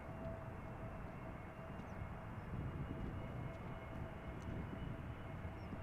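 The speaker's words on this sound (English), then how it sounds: "EasyJet A320neo arriving from Prague" An EasyJet Airbus A320neo arrives at Schiphol Airport, its distant engines making a steady, broad rumbling roar that holds evenly throughout without speech.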